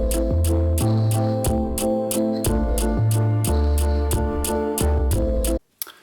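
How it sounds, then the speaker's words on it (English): A programmed kick drum beat thumps in a steady, looping pattern, with crisp ticking hi-hats riding over the top, loud and close, until it cuts off abruptly near the end. "this is what my kick drum sounds like"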